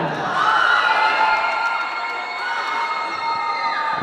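Rome team supporters in a crowd at a youth ball-game event shout, whoop and cheer together continuously, loud and dense, with children's high voices prominent throughout.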